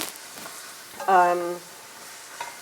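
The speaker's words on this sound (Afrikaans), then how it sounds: "En hierdie moet vir so klein rukkie braai." Butter sizzles in a hot pan at the start of a risotto, a short hissing burst near the middle with a brief tonal whine, otherwise quiet kitchen background.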